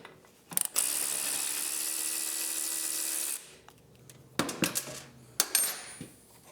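A 14mm socket on a ratchet removing a nut from the swingarm of a 2024 Triumph motorcycle, heard as a steady whirring ratchet run for a few seconds followed by metallic clinks and taps of tools, close by, with no talking.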